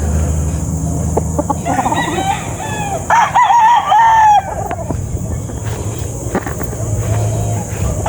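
Boston gamefowl roosters, brood cocks and stags at a farm, crowing loudly nearby, with one long clear crow in the middle among other birds' calls and clucks, while someone talks.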